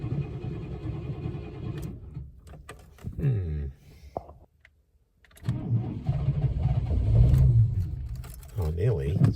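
A 1998 Chevrolet Silverado with a suspected failing fuel pump cranking and trying to start, a rough churning rumble that cuts out, pauses in near silence, then resumes with strained revving, with a voice heard close by.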